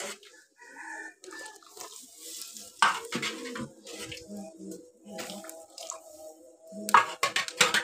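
Dal is poured into a hot pan and stirred, giving bursts of sizzling with scraping and clinking from the spoon, uneven and close, with a couple of louder splashy surges.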